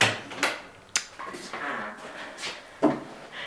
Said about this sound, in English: Creaky doors.